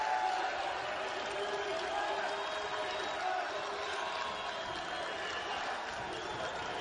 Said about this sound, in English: The crowd to their feet.